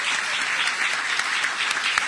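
Sustained applause from an audience at a book presentation in honor of a municipal president, many hands clapping in a dense, even roar with occasional louder single claps, continuous and close throughout.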